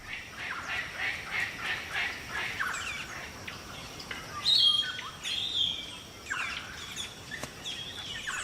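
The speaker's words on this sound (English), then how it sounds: "The local birds gather at trees that are fruiting." Wild parrots and local birds calling at fruiting trees in the Australian bush: a lively chorus of overlapping chirps and squawks, with louder shrill calls in the middle and a faint insect hum beneath.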